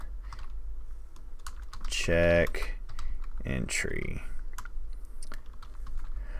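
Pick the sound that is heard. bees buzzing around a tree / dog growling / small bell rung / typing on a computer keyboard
typing on a computer keyboard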